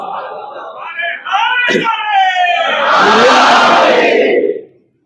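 At a Muharram majlis gathering in Bhiwandi, Mumbai, a lone voice calls out and a large crowd answers with a loud, unified shouted religious slogan that swells close by and then cuts off abruptly.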